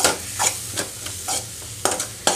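Gongura leaves and coriander seeds frying in a pan hiss and crackle softly, broken by several brisk stirring scrapes at irregular intervals, close and clear.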